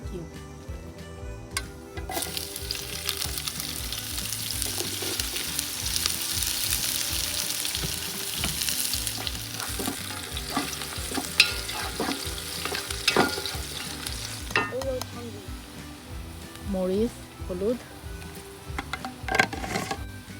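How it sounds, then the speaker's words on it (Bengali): Bottle gourd and shrimp frying in a pan outdoors in a garden, a constant close sizzle with intermittent stirring scrapes running throughout, a voice talking over it at times. "প্রথমেই বসায় দিছি লাউ চিংড়ি"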